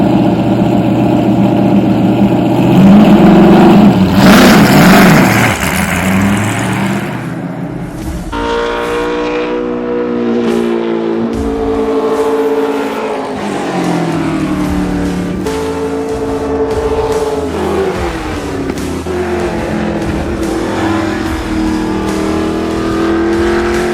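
A TA2 race car engine roars and revs on track, loud and close, rising and falling through gear changes with brief dips between pulls, no talk over it.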